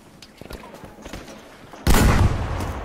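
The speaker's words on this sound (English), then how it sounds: "I'm getting shot at." Gunfire in the Battlefield V video game, scattered faint reports giving way to a sudden loud burst of close shots and booms that keeps rumbling on, with a player's voice talking underneath.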